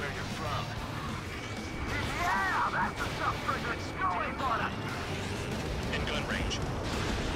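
Missiles fired and exploding in Ace Combat 7 during a pipeline destruction mission, with rumbling blasts and booms under steady jet noise and a voice talking over them.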